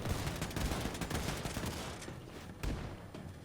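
A fully automatic shotgun in the video game Wolfenstein 2 fires a rapid, loud, continuous burst of blasts with no talk, ending in a final shot and a short tail.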